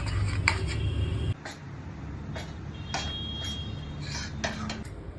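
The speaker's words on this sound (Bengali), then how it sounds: "ঘি দিয়ে আটাটা ভাজছি" Wheat flour is stirred as it fries in ghee in a pan for gond laddu, with intermittent close clinks and light scrapes of a utensil against the pan over a soft background.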